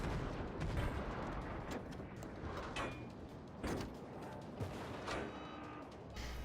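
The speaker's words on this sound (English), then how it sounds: "the lieutenant orders all guns to fire at the enemy cruiser" Warship main guns firing at an enemy cruiser during a naval battle in World of Warships, heard as a string of heavy booming shots spread across the moment over steady battle noise.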